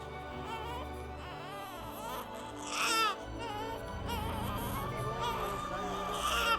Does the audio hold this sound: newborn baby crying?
yes